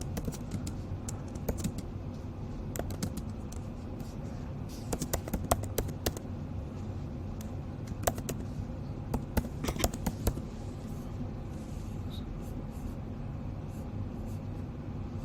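Rapid, irregular clicking of keys on a computer keyboard continues throughout, with soft taps and occasional sharper strikes, close by and steady, with faint background noise.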